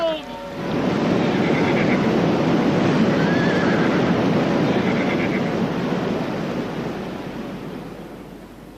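Audiobook sound effect of a flood: surging water and waves roar steadily and loudly, with horses neighing in distress among them, fading toward the end.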